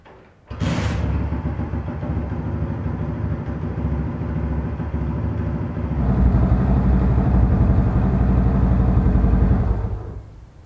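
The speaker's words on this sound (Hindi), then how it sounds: "आप तब जो है इसके बटन को ऑन करना और बाइक जो है स्टार्ट हो जाएगी।" A motorcycle engine starts with a sharp burst, then runs at a steady rumbling idle for several seconds, the tone shifting slightly partway through before it cuts off near the end.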